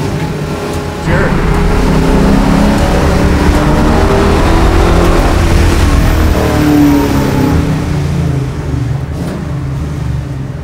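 A garage-built 440 ci Plymouth Barracuda muscle car driven hard, its loud V8 roaring steadily near the microphone for about ten seconds, with the engine note rising and falling slightly and brief talk mixed in.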